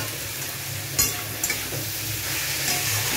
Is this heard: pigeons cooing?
no